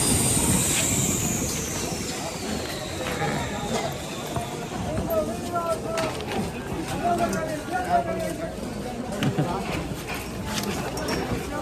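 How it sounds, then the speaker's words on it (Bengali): A Ranaghat MEMU passenger train passes on a foggy morning, making a continuous loud rumbling roar with rising and falling whining tones from the wheels and motors, heard close by for the whole stretch. "এই একটা ট্রেন যাচ্ছে, এটা যাবে আপনার রানাঘাট, এটা হলো রানাঘাট মেমু"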